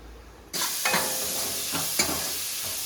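Onion, tomato and garlic hit hot oil in a pan for a South Indian potato gravy, bursting into a loud steady sizzle with a few stirring scrapes, no voices.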